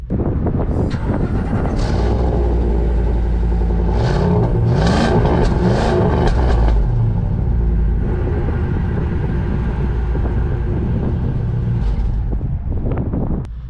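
A 2015 Ford E-350 15-passenger shuttle bus with a 5.4-liter Triton V8 and automatic transmission drives along, its engine rumbling loud and steady with a rising rev in the middle and a constant low road drone throughout.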